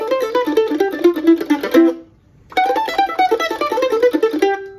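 Bluegrass mandolin plays a four-beat Monroe-style bounce lick, bright rapid picked notes in a close, steady run, then a brief pause before the phrase repeats.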